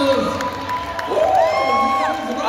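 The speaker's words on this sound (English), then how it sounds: "Give a big round of applause for all these young" An audience at a Carassauga 2019 dance performance cheers and whoops for young dancers, with scattered clapping and rising shouted voices, lively and close but not very dense.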